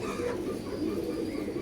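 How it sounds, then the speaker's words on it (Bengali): A domestic pigeon coos close by in low, rolling, continuous murmurs, heard on its own without talk. "আমার পছন্দের 2টা কবুতরের 2 নম্বর কবুতরটা এটা"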